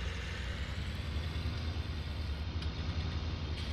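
A 1980s-era tractor in Farming Simulator 19 idles with a continuous low diesel rumble, steady and close, with no talk over it.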